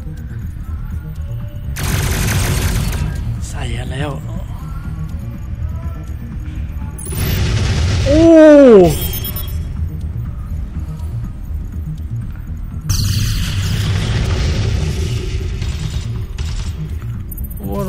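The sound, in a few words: cannon fire bombardment in video game Endless Space 2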